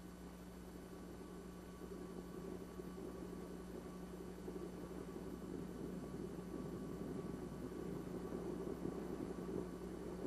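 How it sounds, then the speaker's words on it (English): A 1944 US Navy carrier fighter plane held at rated takeoff power before catapult launch, its piston engine a steady, loud droning roar with a low hum that swells gently over ten seconds, with wind rushing across the deck. "Last fighter is in position, turned up to rated takeoff power, and is launched."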